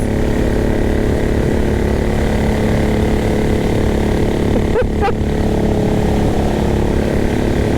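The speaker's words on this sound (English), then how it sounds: "I know some people love to hear the sound of a Bullet 500 engine" A 2023 Royal Enfield Bullet 500 single-cylinder motorcycle engine drones steadily at speed near 80 mph, loud and close with heavy wind rush throughout and a brief click midway.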